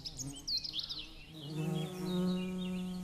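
Honeybees buzz close by around nectar-rich Corydalis flowers, a steady droning hum that swells and holds over several seconds with some higher insect whine early on.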